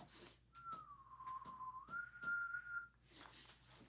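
A human voice imitates a whistle as a single sustained tone, sliding slightly down then back up, lasting about two and a half seconds over faint background noise.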